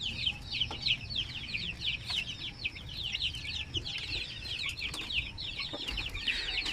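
Young chicks peep continuously in a dense, high chorus of short chirps, close by and fairly loud, with a faint low background rumble.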